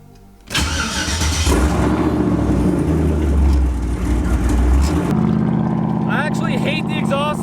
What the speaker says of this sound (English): All right, let's cold start this bad boy.